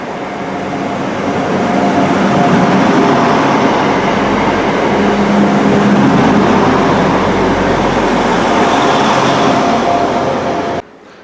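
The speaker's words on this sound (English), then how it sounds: "Here comes my train." A Transport for Wales train pulls into a station platform, a loud steady rumble of wheels and engine building and holding close by, then cutting off abruptly near the end; no voices.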